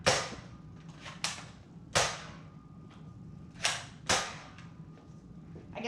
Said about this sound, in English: Shooting the megas first in 3, 2, 1, go.